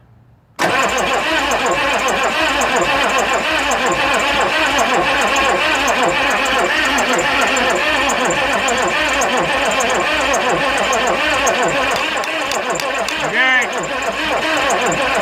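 A cold 6.5 turbo diesel engine that won't start is cranked continuously by the starter for about fifteen seconds, a steady loud mechanical churning that never catches, with a brief pause near the end.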